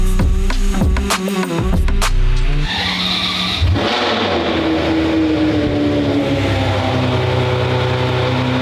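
A McLaren 720S GTR drives past loudly, its engine note rising and falling with a tyre squeal partway through, then settling into a steady, sustained drone as the car pulls away.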